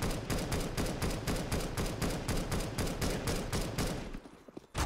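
Rapid, continuous automatic gunfire in Counter-Strike: Global Offensive, dense bursts of shots filling nearly five seconds before thinning out near the end.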